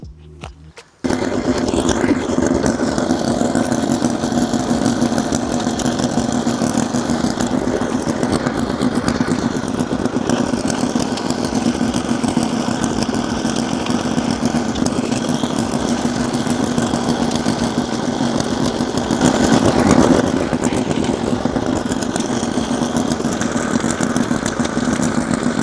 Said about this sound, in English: So let's fire up a tiller.